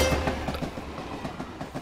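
Train running on rails, a rapid rumbling clatter of wheels with rhythmic clickety-clack beats, loud and close for a brief moment with no voices.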